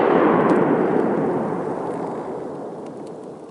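A single shotgun blast rings out during a spring duck hunt outdoors, a sudden heavy boom that rolls and fades over several seconds, with no voices.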